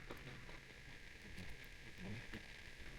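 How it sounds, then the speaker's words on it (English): Rain starting during a motorcycle ride, a steady even hiss of falling drops over a constant background rumble, with no voices. "And here comes the rain."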